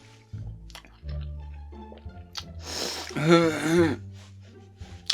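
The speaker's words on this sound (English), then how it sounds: "I did not chew that noodle. It just went down straight." Ramen noodles are eaten: a loud, wet slurping burst near the middle, with chewing sounds around it and voices talking in the background.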